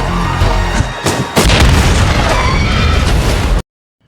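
A loud, close explosion booms and rumbles for several seconds with crackling debris, then cuts off abruptly to silence.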